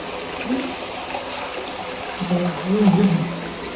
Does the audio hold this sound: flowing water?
yes